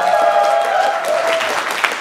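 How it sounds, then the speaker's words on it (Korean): Audience applause at a book talk show and mini concert, a steady wash of clapping that holds for about two seconds while a sustained tone rings faintly underneath. "여러분 수고해주신 이다희 씨와 임정수 씨께 다시 한번 큰 박수 부탁드립니다"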